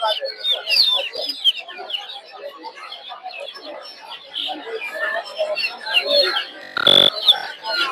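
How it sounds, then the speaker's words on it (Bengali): Native chickens and chicks at a Saturday poultry market in Putia, Narsingdi, cluck and cheep continuously close by, with a dense overlapping chorus and a brief louder burst near the end, under some talk. "দেখতে পাচ্ছেন এগুলো দেশি মুরগির বাচ্চা"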